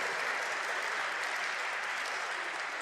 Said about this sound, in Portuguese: palmas pros designers